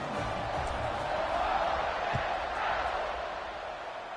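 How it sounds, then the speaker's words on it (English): A football stadium crowd keeps a steady, broad buzz going after a touchdown in a college football video game. The roar is even and moderately loud, with no distinct voices rising out of it. "this crowd is buzzing after that last score"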